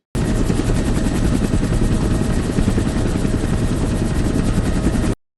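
A helicopter from the TV show Pluribus thunders with a loud, steady rotor chop for about five seconds, with no talking over it.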